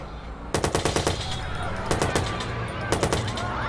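Bursts of automatic gunfire from the Watch Dogs video game, three rapid volleys of close, loud shots separated by short pauses over a low background rumble.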